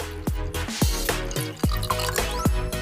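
Water drips one drop at a time, about every half second, into water below. Each drop lands with a clear, close plop that falls in pitch, under a faint running trickle.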